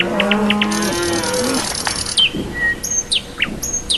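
A cow moos in a long, low, harmonic call at the start, while birds chirp and tweet throughout with bright, repeated calls.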